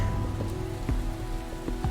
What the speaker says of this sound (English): Until, that is, the rain just gets to be a bit too much.